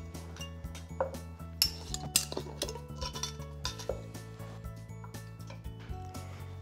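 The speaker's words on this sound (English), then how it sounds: "I'm ready to place my jars inside." Glass canning jars clink and knock against a metal rack inside a Ball electric canning system, a series of close, irregular clinks and taps over a steady low hum.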